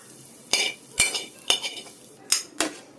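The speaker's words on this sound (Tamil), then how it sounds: "எடுத்து போட்டுடலாமா? எடுத்து வச்சிருங்க தட்டில்" Fried egg being lifted from a pan onto a plate, heard as about five sharp metallic scrapes and clinks of a spatula against cookware, spaced roughly half a second apart, close and fairly loud with quiet room tone between.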